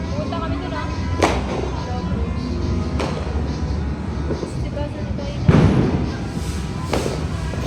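Stray firecrackers go off on New Year's Day in several separate bangs a second or two apart, the loudest near the end, under ongoing outdoor chatter and crowd noise.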